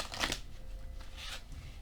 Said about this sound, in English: while I shuffle